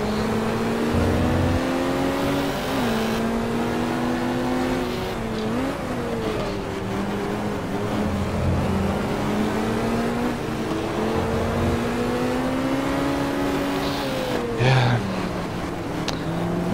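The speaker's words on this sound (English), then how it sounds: "I can hear the Corvette." A Corvette race car engine in the racing game GT Legends drones steadily and loudly up close, rising and falling in pitch through shifts and revs, with other cars faintly nearby.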